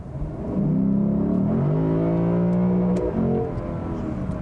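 A 2022 Lexus IS 500 F-Sport Performance V8 engine revs up in a deep, rising rumble, holding a strong drone for a couple of seconds before easing off, heard from inside the car.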